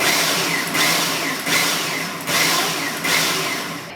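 Blender whizzing basil pesto with garlic in short pulses, a loud whirring motor that surges and dips about four times in a row.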